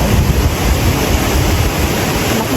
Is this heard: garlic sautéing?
no